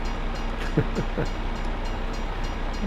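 A train passes in Farming Simulator 25, a loud, close, continuous low rumble with a few rhythmic wheel clacks early on.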